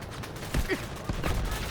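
Shotgun blasts from the shooter video game Delta Force 2024, two sharp close reports about half a second apart over a busy game-sound background.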